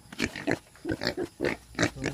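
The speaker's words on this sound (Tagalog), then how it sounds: "Ang baboy namin ay napakadumi." Pig grunts from a dirty farm pig at a small vegetable garden, a series of about eight short snorting grunts in an irregular rhythm, close and fairly loud.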